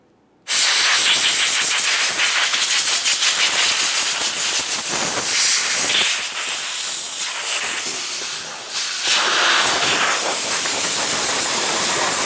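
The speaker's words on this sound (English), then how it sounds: "Use some compressed air if necessary." Compressed air blows off the top of the fuel tank of a 1998-2011 Ford Ranger 2.3L in a loud, continuous close hiss that starts abruptly and varies slightly in strength.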